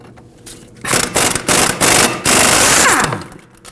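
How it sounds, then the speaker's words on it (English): A 17mm bottom bolt comes off during front wheel bearing and hub work on a 1993-2001 Subaru Impreza, with a power tool hammering loudly in four short rattling bursts, alone. "We can go ahead and remove the bottom bolt with a 17mm as well."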